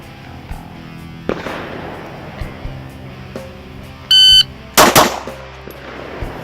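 An HK pistol fires a few sharp, separated shots at a range, with a short electronic beep between them and no talking.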